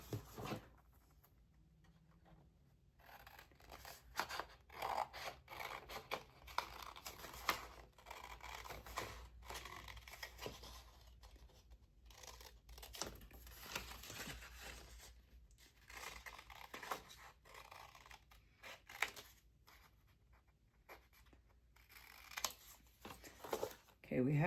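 Scissors cutting out paper pocket tag pieces, quiet intermittent snips and paper rustling up close, with sporadic crinkles and handling noises between cuts.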